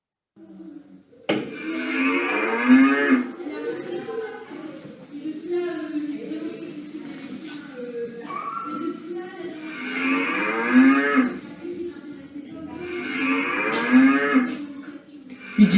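A cow moos repeatedly in a farm sound game, three long lowing calls spaced through the clip, heard alongside a voice and adult talk.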